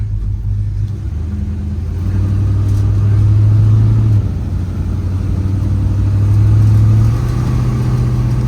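A 1955 Chevrolet Bel Air engine pulling hard on the road, a loud close low rumble that swells as it accelerates, eases briefly, then climbs again through the gears.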